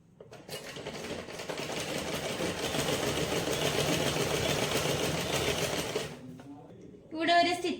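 A sewing machine runs steadily for about six seconds, stitching down a fold on a sleeveless kids' frock, then stops; a voice speaks briefly just after.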